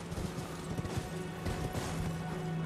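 Horse hooves trample in Elden Ring, a steady run of soft clip-clop thuds close by over a constant low game ambience, with no talking.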